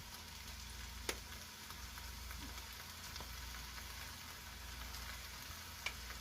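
Saltfish, tomatoes and black pepper fry in a pan, giving a soft, steady sizzle that holds evenly throughout, with a couple of sharp clicks as the food is stirred.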